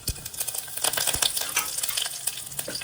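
A tempering of mustard seeds, chana dal, urad dal, cumin and curry leaves sizzles and crackles in hot oil while being stirred, with a steady spattering hiss and occasional spoon scrapes, no talk.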